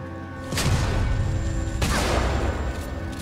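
Gunfire in the video game Alien: Isolation, two heavy booming shots about a second apart, each with a long reverberant tail over a steady tonal hum of game ambience.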